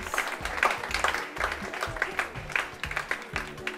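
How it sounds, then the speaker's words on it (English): An audience claps for a senior high school girls' cooking team at a zonal cooking competition, a short burst of rhythmic, fairly close clapping with uneven, lively beats. "Let's give them a big round of applause, please."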